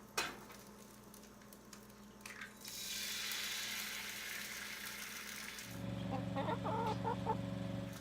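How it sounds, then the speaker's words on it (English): An egg dropped into a hot pan, a broad hiss of sizzling that starts abruptly and holds steady, joined later by a louder crackle with faint tonal sounds, quiet overall. "When the egg hits the pan, it immediately starts to sizzle and pop."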